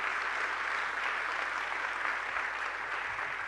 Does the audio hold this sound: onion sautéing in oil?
no